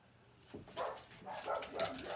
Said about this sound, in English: The dogs are going crazy today.